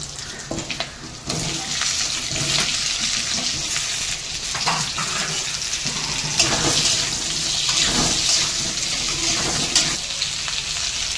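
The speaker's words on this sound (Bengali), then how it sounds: "আলুগুলো ভেজে নেব" Salted, turmeric-dusted potatoes frying in oil in a pan for a fish and fig curry: a loud, close, crackling sizzle runs throughout, with intermittent scraping stirs and spatters, and no speech.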